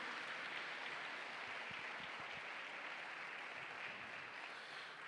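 An audience at a teen conference in Lahore applauds, soft distant continuous clapping wash, fairly faint throughout.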